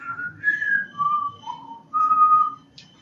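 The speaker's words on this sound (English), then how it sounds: "and whistles the same tune" A person whistles a short tune in clear, steady notes, each held briefly before sliding to the next, close and alone over faint background hum.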